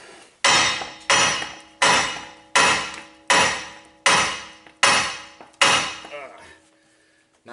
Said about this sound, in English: What I'm doing is hitting on the side of the knuckle to try to loosen it up.